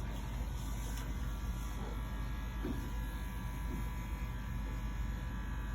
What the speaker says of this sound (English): most of my clippers are cordless